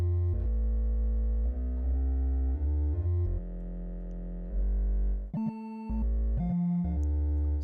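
A dark cinematic synth pad built in Reaktor, run through a delay effect, sounds as sustained layered tones that shift pitch in steps, with repeated echoing notes near the end and no voices.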